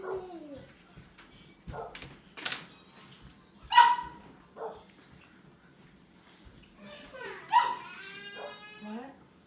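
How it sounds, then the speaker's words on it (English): Several dogs bark and yip intermittently in a home workshop, with whimpering between bursts, somewhat distant beneath people talking. "Go and tell the dogs to stop."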